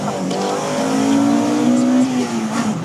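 A Honda Integra Type R engine revs high and climbs steadily, with a sharp rising pitch change at the VTEC crossover partway through, loud and close throughout.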